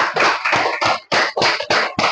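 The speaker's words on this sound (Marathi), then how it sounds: "जोरदार टाळ्या वाजवता का त्यांच्यासाठी?" An audience at a weekly prize-draw event claps in distinct, rhythmic bursts, about eight loud, close, evenly spaced rounds of hands with short gaps between, and no talking.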